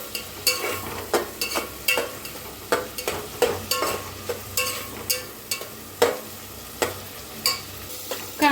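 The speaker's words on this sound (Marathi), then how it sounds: "तर कांदा हलवून छान असा भाजून घेऊया सोनेरी कलर पातळ." Sliced onions fry in a pan for chole, stirred in a steady rhythm of about two spoon scrapes and clacks per second over a constant close sizzle.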